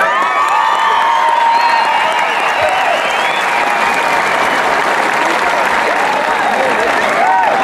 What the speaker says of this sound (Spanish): Si ustedes le regalan un buen aplauso